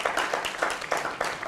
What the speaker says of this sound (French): on applaudit pour vous-même